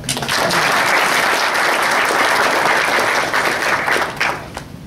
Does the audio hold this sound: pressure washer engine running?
no